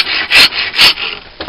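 A coarse rasp with huge teeth files the flat side of a wooden artist palette in two loud, close, rhythmic rubbing strokes, each a harsh scraping burst.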